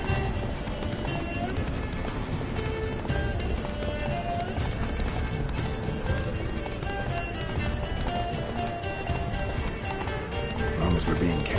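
Geralt's horse Roach galloping in The Witcher 3: Blood and Wine, rapid continuous hoofbeats under steady game music and effects, with voices speaking over it throughout.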